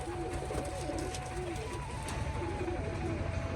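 Pigeons coo from a cage at close range, soft repeated coos rising over a continuous hum and rustle of background noise.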